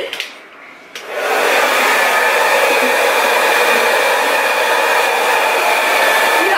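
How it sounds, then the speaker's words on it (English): A hair dryer on its cool setting switches on after a brief quieter moment and then blows steadily, loud and close, with an even airy roar. "I'm gonna go on my blow dryer, on cool, and blow dry it."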